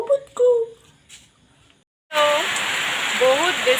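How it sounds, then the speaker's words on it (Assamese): Heavy rain in Tezpur comes in abruptly as a loud, dense hiss after a quieter indoor stretch, continuing steadily while a person talks over it. "এয়া চাওক কেনেকৈ জোৰছে বৰষুণ দিছে"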